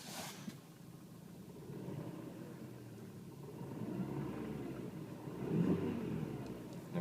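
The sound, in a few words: Lada Kalina 1.4 16-valve engine running, heard inside cabin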